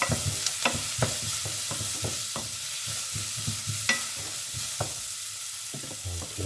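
A wooden spatula stirs garlic and paprika in a sizzling pan, giving a steady run of soft scraping strokes close up over a constant frying hiss, with no talking.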